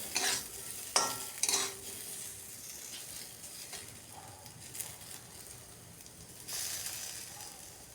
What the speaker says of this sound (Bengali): আলুগুলো দেখুন লাল লাল করে ভাজা হয়ে গেছে